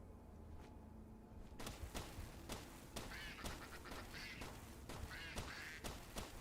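A Palumba creature in the Palworld video game calls over and over in harsh, angry duck-like quacks, repeated in a rapid, uneven string at a moderate distance against game ambience.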